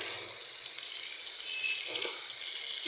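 A pan of mango pickle salan fries after turmeric is added, giving a steady, soft broadband sizzle with faint stirring, no voices, at moderate distance.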